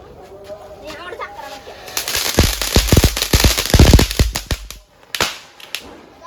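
At a Vishu celebration, a rapid string of firecrackers bursts with sharp, loud cracks for a few seconds, followed by one or two separate bangs. Birds chirp and people are faintly heard around it.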